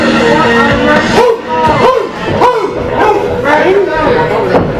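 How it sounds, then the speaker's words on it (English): A dog barks again and again in quick bursts with a few yips, loud and close, while people talk over it throughout. "I hear a dog in here."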